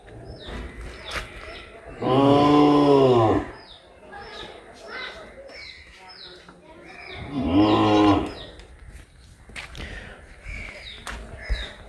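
Cows at a cattle market in Dinajpur give two long, loud, close moos several seconds apart, amid background chatter and crowd noise with occasional bird calls.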